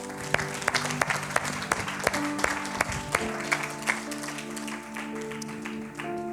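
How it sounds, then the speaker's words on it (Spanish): A congregation at a Spanish-language church service claps steadily and loudly for several seconds, sharp irregular hand claps ringing over a sustained background of music or organ tones. "Dele fuerte aplauso al Señor."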